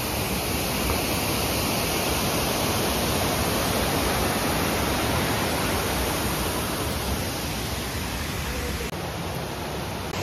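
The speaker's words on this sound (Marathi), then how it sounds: "इथं धबधबा आहे" A waterfall of low, white water spilling beside a fortified wall gives a steady, dense rushing roar close by, unbroken for the whole stretch with no voices.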